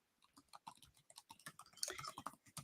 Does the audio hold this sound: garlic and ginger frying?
no